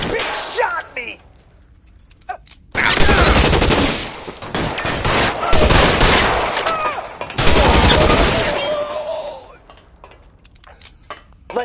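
Gunfire in the L.A. Noire video game arrives in loud, rapid bursts and volleys, with sharp clattering shots separated by brief quieter gaps and a few stray pops, while voices are heard.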